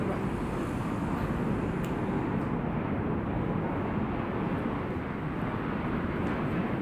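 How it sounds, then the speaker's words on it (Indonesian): An airplane flies overhead near a 17 August Independence Day celebration in Indonesia, a loud, continuous broadband roar that holds steady from start to finish with no voices. "pesawat terbang"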